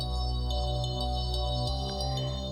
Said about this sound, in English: With delay, it would sound like this.